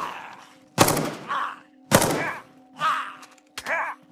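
Rifle shots fired in the video game DayZ: several sharp, heavy blasts about a second apart, each with a short fading tail, over a faint steady background hum.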